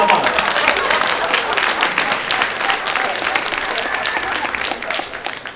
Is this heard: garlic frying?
no